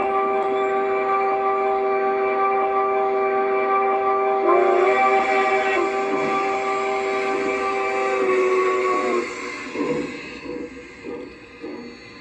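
LGB Wilson Brothers Mogul model locomotive fitted with a Zimo MX696V sound decoder gives off steady steam-engine sound with sustained whistle-like tones, loud and close, then breaks into softer rhythmic chuffs near the end.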